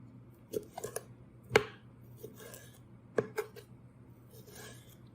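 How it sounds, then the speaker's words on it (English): A knife slicing food thinly on a cutting board while preparing pico de gallo, with a few sharp, separate cuts and taps, quiet and close with no talking. "You'll also want to slice this up as thin as you can."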